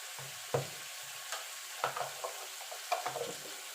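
Fish oil with ginger-garlic paste fries in a pan as a spoon stirs it, with quiet sizzling under a series of irregular scraping and knocking strokes, several in quick succession, close and fairly soft.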